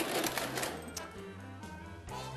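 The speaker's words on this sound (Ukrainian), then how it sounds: "Це касовий апарат радянських часів." A Soviet-era mechanical cash register rings up a receipt in a shop, giving a quick run of clattering mechanical clicks and whirring with tonal hums, close and fairly quiet.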